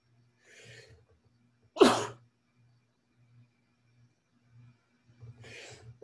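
One sharp, loud sneeze bursts out near the microphone in a quiet room, with faint breaths before and after it.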